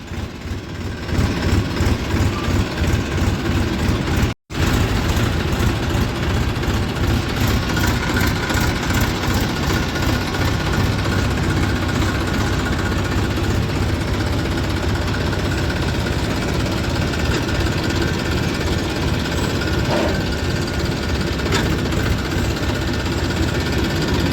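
Tractors queue idling at a sugar mill, their engines a loud, steady low rumble with throbbing vibration that runs unbroken apart from one brief cut.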